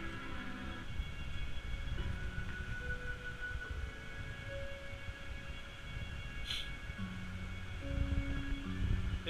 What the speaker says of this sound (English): If you can hear that, that is the audio system going off